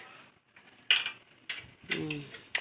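Sporadic metallic clinks and taps of tools on motorcycle parts during a repair, a few sharp knocks among quiet gaps.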